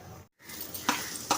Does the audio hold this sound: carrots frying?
yes